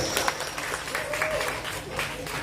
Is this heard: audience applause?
yes